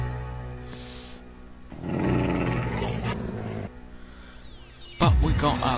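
Tamed wolves in the Minecraft video game growl in layered, rumbling snarls that swell and fade over a busy game soundscape, ending with a louder burst.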